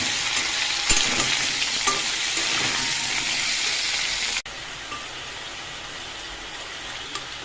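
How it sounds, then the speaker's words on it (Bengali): Potatoes shallow-frying in oil for a Mughlai potato curry, a steady, loud, close hiss and crackle of sizzling with an occasional knock, the level dropping abruptly partway through and then continuing more softly, with no voices. "আলুটা লাল লাল করে ভেজে নেব।"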